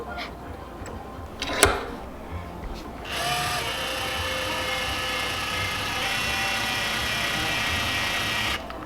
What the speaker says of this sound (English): Chuck it up in a drill.